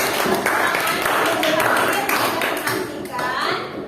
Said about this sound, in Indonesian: Kita kasih aplaus dulu presentasi dari kelompoknya Asmi Lia.